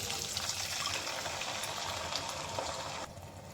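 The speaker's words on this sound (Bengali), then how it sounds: "এবার পানি দিয়ে দেব।" Water pours steadily into a cooking pot of lightly fried onions for a home-style chicken and potato curry, a close, continuous gushing splash that ends abruptly near the end.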